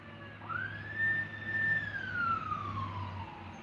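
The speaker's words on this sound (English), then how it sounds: "they're running lights and sirens" A single siren wail rises, holds, then falls away in the distance, with a steady low hum of traffic underneath.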